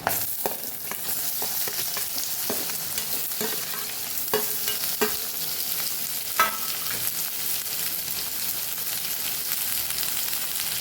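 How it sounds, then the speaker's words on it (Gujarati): Cucumber goes into chilies frying in oil for a Kathiyawadi cucumber dish, producing a steady close sizzle with repeated spoon stirs and scrapes throughout, and no speech. "હવે આપણે અહીંયા કાકડી ઉમેરી દેવાની છે"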